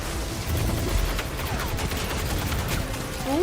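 Rapid gunfire from the video game Destiny 2 rattles on continuously as a dense, loud barrage with mixed sharp cracks, steady from start to finish.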